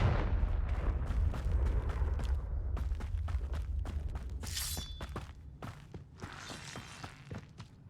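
Blasts and crackling impacts from a fire spell in the Hogwarts Legacy video game, a dense run of loud booming hits and debris clatter repeating at an uneven rhythm, with a bright magical whoosh partway through.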